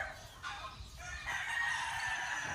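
A green-legged lemon gamefowl rooster crows once on a game farm, faint and somewhat distant, over low background noise.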